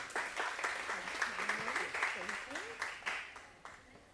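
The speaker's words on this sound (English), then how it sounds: "Please give her a warm round of applause." A conference audience at a women-in-leadership event breaks into warm applause, a steady patter of many hands that swells briefly and then tapers off, with a voice speaking over it.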